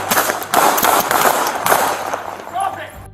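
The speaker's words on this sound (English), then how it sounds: "The officers opened fire." Police officers opening fire during an arrest: a rapid series of sharp shots over a few seconds, mixed with shouting voices.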